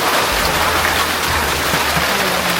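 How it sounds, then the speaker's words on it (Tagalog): Steady rain falling outdoors, a dense, even hiss of drops close by with no voices. "Inabot pa tayo ng ulan."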